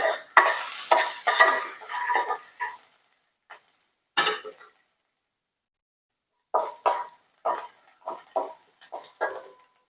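Green chillies and chopped garlic cloves sautéing in a pan, heard as bursts of stirring and sizzling scrapes separated by short quiet gaps, close and fairly loud.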